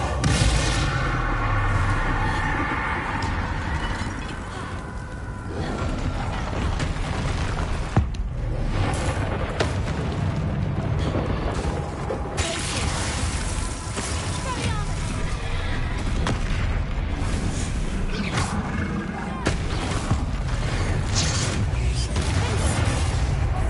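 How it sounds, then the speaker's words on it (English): A Bombarda blasting spell in the game Hogwarts Legacy goes off during a troll fight, with repeated heavy booms and impacts over continuous loud battle noise, music and a voice. "Bombarda!"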